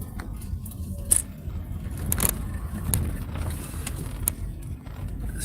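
A car rolls into a motorway rest stop, a low steady road and engine rumble with faint rattles and small mechanical clicks, moderately quiet throughout.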